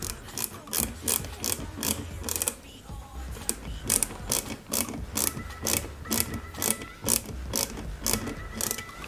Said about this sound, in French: Et on visse l'ensemble.